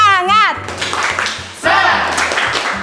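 A classroom of children does a rhythmic clapping cheer at the close of a lesson, the claps falling in a patterned beat under children's voices.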